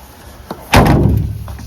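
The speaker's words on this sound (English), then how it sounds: "Good news, with a little lubrication, the door latches work again." A Land Rover Series 3 door latch, freshly lubricated, shuts with a single solid thump-slam close by, after a faint click beforehand.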